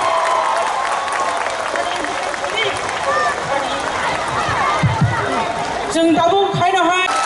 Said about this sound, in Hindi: सभी साथियों को मैं कहूँगा अपने जोरों से हाथ तालियां दीजिए हमारे मुख्यमंत्री जी के स्वागत के लिए